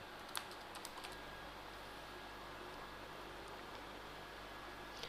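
Scattered soft keystrokes on a computer keyboard as a password is typed, a few faint clicks over a steady hiss of background noise, with no voice.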